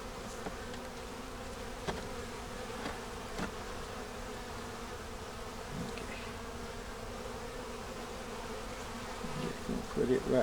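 A steady, dense buzz of many honey bees swarming around a hive, continuous and close, with a few faint knocks and rustles.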